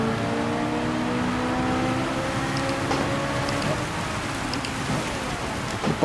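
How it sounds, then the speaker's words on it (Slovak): Heavy rain in a racing video game at the Red Bull Ring, the steady wash of downpour mixed with a car engine droning and shifting pitch, continuous and fairly loud throughout. "Takže tračnú kontrolu mám nastavenú na jednotke, keďže nám husto prší."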